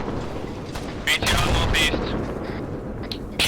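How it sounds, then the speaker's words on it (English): Mortar rounds landing in a military video game, a few heavy distant booms and crumps over a rumbling background, with people talking over radio nearby. "here's the mortars again"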